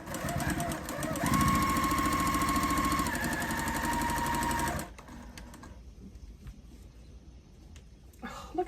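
Sewing machine stitching quilt fabric pieces, a loud rapid mechanical whirring run lasting several seconds that stops abruptly, followed by quieter handling noises and faint room sound.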